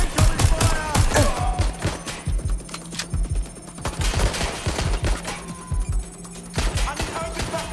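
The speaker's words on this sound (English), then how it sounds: "Taking fire. Please, I need help." Rapid gunfire in the video game Watch Dogs: Legion, loud bursts of automatic shots in quick clusters with brief lulls between volleys, close and dominant throughout.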